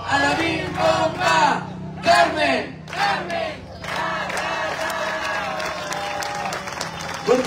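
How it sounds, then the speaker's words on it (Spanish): A hometown crowd at a town inauguration in Jonacatepec, Morelos, claps loudly amid rhythmic chanting and shouting voices, with steady clapping filling the second half. "¡Fuerte los aplausos!"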